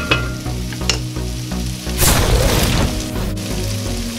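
Elk shanks fry in a pan with a steady close sizzle, interrupted by a few knocks and a loud burst of spattering as the meat is moved, no voices.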